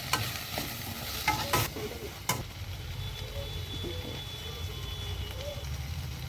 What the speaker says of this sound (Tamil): கடைசியில் தக்காளி போட்டு நல்லா வதக்கிட்டு எண்ணெயிலே நல்லா வதங்கிடணும்.